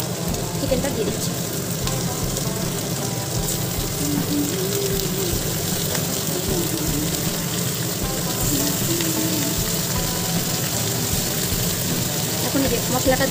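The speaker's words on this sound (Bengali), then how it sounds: "পেঁয়াজটা ভাজা হয়ে গেছে, এখন আমরা চিকেনটা দিয়ে দিচ্ছি।" Chicken pieces frying in oil with already browned onions, cumin and dried chilli, giving a dense, constant sizzle close up that fills the whole stretch without letting up.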